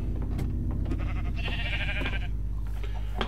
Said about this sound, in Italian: le pecore hanno una simpatica caratteristica che se gli tagli il vello, poi mangiano l'erba e il vello ricresce.